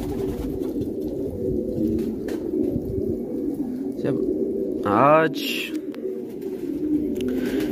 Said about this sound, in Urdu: میرے کبوتر دیکھیں کیسے خوشگوار پھیر رہے ہیں